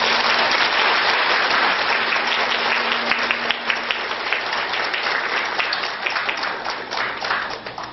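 An audience in a Buddhist lecture hall gives a lecturer a sustained round of dense applause, many hands clapping together steadily throughout and easing slightly toward the end.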